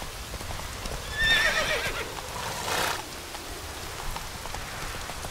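Roach, the horse in The Witcher 3, neighs once against a steady patter of rain, with soft hoofbeats barely showing beneath the wet hiss.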